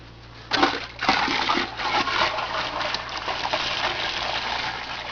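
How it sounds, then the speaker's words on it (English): Cooled homebrew beer wort poured into a bucket in a basement, a continuous splashing gush that starts abruptly, then runs steadily and fairly close with slight surges. "we're going to pour our wort into a bucket"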